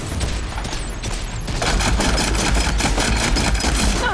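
A cannon in Horizon Forbidden West fires in dense, rapid bursts that build into a loud, continuous rattling barrage, close and overpowering from the second half onward.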